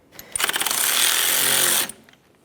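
Power impact tool loosening the engine mount through bolt on a 2007-2017 Jeep Patriot 2.4L with a 17mm socket, one loud burst of rapid hammering lasting about a second and a half, close up with no talking.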